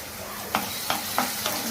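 Curry leaves crackle and sizzle in hot oil for a Tamil fish curry, with a steady frying hiss broken by four rhythmic scraping stirs, close and moderately loud.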